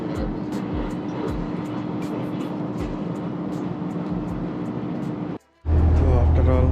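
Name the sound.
riding a train to Okayama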